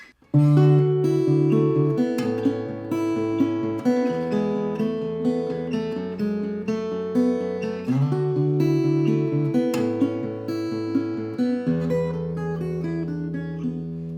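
Strummed guitar chords ring out in a steady progression, each chord changing every couple of seconds and sustaining clearly without any voices.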